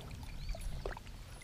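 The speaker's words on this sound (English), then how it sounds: "All right, Chris, put that big girl back in the water and let her go do her thing." A large bass is released from a kayak back into a Tennessee lake. Faint splashing and trickling water sound close by, with a soft slosh midway over quiet outdoor background.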